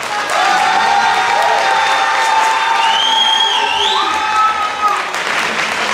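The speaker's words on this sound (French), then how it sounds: "Un tonnerre d'applaudissements pour Abdelhaoui et Gabriel." A hall audience at a speech contest final applauds two candidates, a dense, steady wash of clapping and cheering with a few whoops, over a sustained tonal hum and faint speech in the background.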